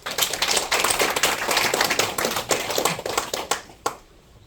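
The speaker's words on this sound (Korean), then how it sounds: "동의하시면 박수 한번 치십시오" An audience claps at a speech, a close, dense burst of applause that holds steady and then thins to a few scattered claps before fading.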